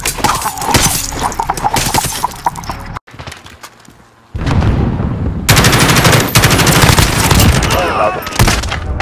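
Rapid automatic gunfire from Call of Duty Modern Warfare fills the clip in loud, dense bursts, dropping out briefly for a quieter gap before heavy shooting resumes with sharp cracks and rattling shots.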